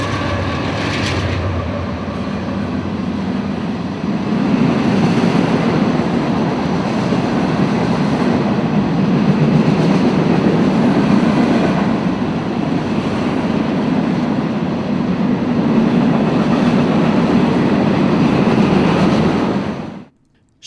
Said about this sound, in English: Grain trains are a staple on the Fitzgerald Sub.